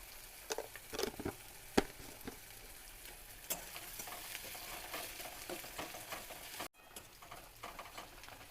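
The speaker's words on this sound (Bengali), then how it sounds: "পেঁয়াজটা ভাজা ভাজা হয়ে এসছে" Onions frying in a pan for spicy chicken keema, salted to brown faster, with steady soft sizzling and repeated scraping stirs of a spoon, close and moderately quiet, with no talking.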